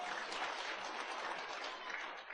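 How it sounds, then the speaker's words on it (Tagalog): Congregation applause during an Ilocano church sermon, a dense continuous clapping that stays loud and even before easing slightly at the close, with no voice over it. "Palakpak kina Jesus."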